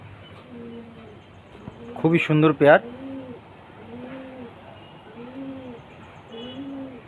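A pair of red-flower pigeons of Madrasi breed coo repeatedly in a steady rhythm of low, rounded calls, close by, while someone speaks briefly over them.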